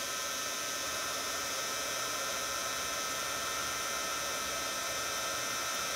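Heat tool blowing from beneath to melt black clear embossing powder, a steady close whooshing hum of fan and heater running without pause.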